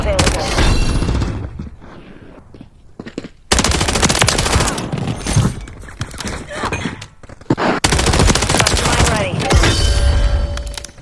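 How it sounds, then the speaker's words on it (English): The AMR9 submachine gun in a video game fires in long rapid bursts, loud and close, with brief pauses between the strings of shots and a voice talking underneath throughout. "the gun has a fast fire rate and a quick time to kill"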